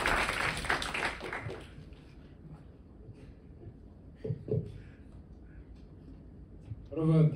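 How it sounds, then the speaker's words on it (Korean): Students at a high school student council orientation give a short burst of applause that quickly fades away, after which a voice begins speaking in a quiet room. "박수로 맞이해 주세요."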